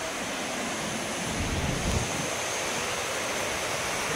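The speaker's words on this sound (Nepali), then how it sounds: "रूपसे वाटरफलमा छौँ हामी अहिले" Rupse waterfall in Mustang, Nepal roars as a steady, dense rush of falling water with wind buffeting the microphone, no voices heard.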